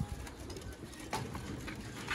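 Sialkoti breeder pigeons give quiet, low cooing calls in short repeated bursts, faint and without speech.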